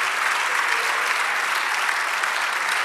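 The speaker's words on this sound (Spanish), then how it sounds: "dale el aplauso a nuestro Dios" A church congregation applauds during a sermon, with a dense, even wash of clapping that holds steady from start to finish, with no talk over it.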